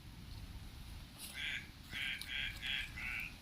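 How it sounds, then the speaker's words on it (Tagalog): A bird calls repeatedly from cover near water where a water buffalo soaks, a series of short bright chirping bursts over a low rumbling background, moderately close. "May ibon dito,"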